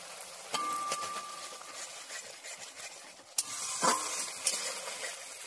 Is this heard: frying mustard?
yes